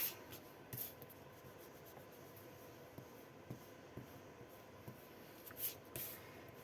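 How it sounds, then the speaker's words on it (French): Rubber eraser rubbing over paper on a scrapbooking gift-box craft project, a faint, soft scratchy scrubbing with a few louder knocks, quiet and close, with no speech. "Alors, maintenant, on va gommer."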